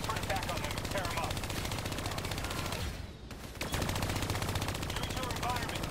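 Hijacked turrets in Call of Duty: Black Ops 3 pour out dense, continuous machine-gun fire, loud and close, with a brief drop around the middle before the rattling resumes.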